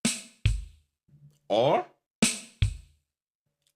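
Single-stroke drum kit pattern with kick drum substitutions, sharp snare or tom hits alternating with low kicks in a sparse, close rhythm, plus a brief spoken word in between.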